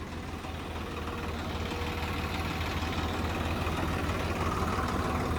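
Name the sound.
tractor engine idling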